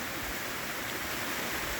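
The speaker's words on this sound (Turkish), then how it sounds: "Döşeme Dere Şelalesi'ne geldik." The Döşeme Dere waterfall in the Kaz Mountains, flowing from the foot of Eybek Hill, gives a steady, faint, even rushing roar with no other sounds.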